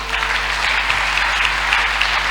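Church congregation applauding steadily during a French-language sermon, a dense, even patter of many hands clapping throughout with no talk over it.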